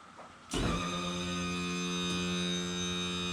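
An outboard motor's electric power trim raises the engine, switching on abruptly into a steady, close, even electric motor whine with a low hum that continues unchanged to the end.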